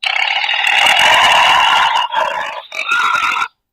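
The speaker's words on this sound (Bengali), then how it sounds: "টাইগার, বাঘ।" A talking book toy for children plays a recorded tiger roar through its small speaker: one loud, sustained growling roar lasting about three seconds, with a brief dip partway through.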